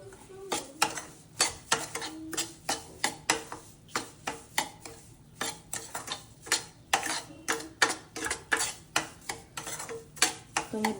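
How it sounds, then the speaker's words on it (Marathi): Semolina roasting in ghee for suji halwa is stirred in a pan with a spoon, scraping and knocking against the metal in a steady rhythm about once per second, close and alone. "रवा आपला ऑलमोस्ट भाजत आलेला आहे."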